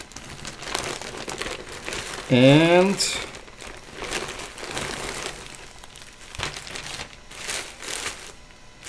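Plastic shipping packaging for a Kappa clothing order crinkles and rustles as it is opened by hand, with a brief voiced exclamation partway through and intermittent talking nearby.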